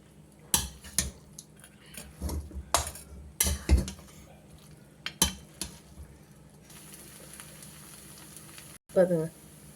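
Kothu parotta sizzles on a street-style griddle in North Madras fashion, with sharp metal clanks and scrapes of a spatula tossing and stirring, bursts spaced irregularly over a continuous frying hiss.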